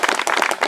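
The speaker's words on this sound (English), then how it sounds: "So give Maddie a little round of applause" Wedding guests at a ceremony give a short burst of clapping, a quick patter of hands from a small crowd, loud and close, lasting under a second with no voices.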